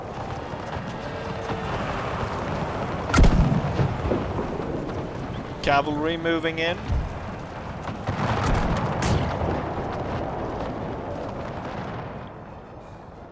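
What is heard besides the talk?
cannon fire in the video game Empire 2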